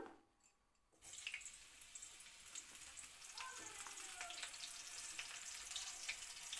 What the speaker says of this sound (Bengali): তেলটা ভালো করে গরম হয়ে গেছে এবার পটল পটলগুলো দিয়ে দিলাম